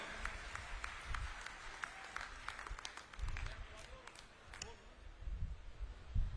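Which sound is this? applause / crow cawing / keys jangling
applause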